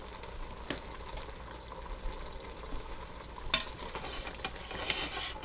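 Pulled pork cooking in a Power Pressure Cooker XL gets stirred, a low bubbling sizzle running underneath with scraping and clinking of the utensil against the pot, including a sharp knock midway, and no talking.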